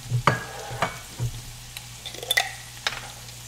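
Fresh thyme sizzles faintly in an ovenproof pan over a soft frying hiss, with a few clinks and taps of utensils against the pan, close and quiet.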